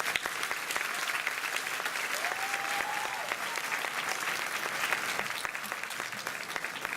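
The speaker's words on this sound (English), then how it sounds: "Let's give these outstanding scholars another round of applause." A graduation crowd at Milestone Academy's 2019 ceremony gives the scholars another round of applause, a loud, continuous roar of many hands clapping with a few sharper claps popping out of the steady mass.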